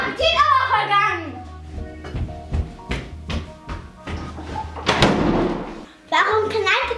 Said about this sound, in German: Warum knallte denn die Tür so laut?